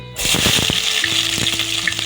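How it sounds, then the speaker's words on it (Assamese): Cloves, cardamom and cinnamon hit hot oil in a kadai on a gas stove, bursting into a sudden loud sizzle with a few crackling pops that settles into a steady close frying hiss. "এফালে গেছতে কেৰাহীখন পতাৰ পাছতে মই ইয়াত দিছোঁ লং ইলাচি দালচিনি"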